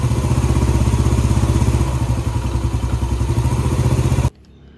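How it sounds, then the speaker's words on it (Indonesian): Rough-running Yamaha Vega ZR motorcycle engine, close up, with a rapid pulsing whine and clatter for about four seconds before cutting off abruptly. "Ini motor Vega ZR dengan kasus mesinnya itu kasar ya, bunyi ngiung ngiung ngiung ngiung ngiung gitu."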